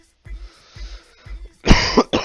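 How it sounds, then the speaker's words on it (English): A man coughs repeatedly: several short dry throat-clearing coughs in a quick rhythm, followed by two louder, harsher hacking coughs close to the microphone. "my coughs are getting pretty bad"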